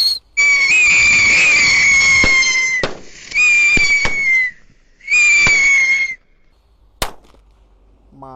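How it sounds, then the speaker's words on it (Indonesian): Mercon tikus firecrackers go off in three long, loud whistling, screeching bursts, each lasting about a second or two with crackling, followed by a single sharp pop and a faint whistle at the end. "Kita lihat mercon tikus tor."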